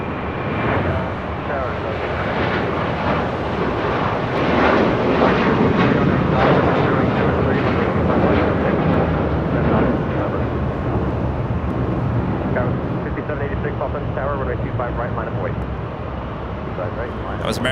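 An American Airlines Airbus A321 jet airliner at LAX roars loudly and continuously, its engine noise swelling and slowly easing as it passes nearby, with a voice talking over it.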